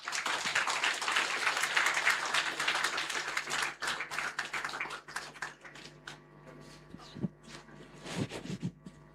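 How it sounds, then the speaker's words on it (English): An audience at an International Day Against Drug Abuse event in Shillong applauds. Loud, dense clapping fills the first few seconds, then thins into scattered, separate claps that slowly die away over a low background hum. "Can we have a round of applause?"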